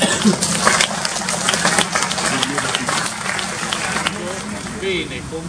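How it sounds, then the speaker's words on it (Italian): A crowd applauds steadily in honor of Don Franco Amigoni at a commemorative ceremony, the clapping dense and continuous at moderate loudness with a few voices mixed in. "Oh, applauso."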